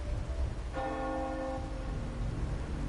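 A bell chime from the video game Wuthering Waves strikes once at about three-quarters of a second and rings on with a clear, sustained tone. It fades slowly over a steady low background rumble.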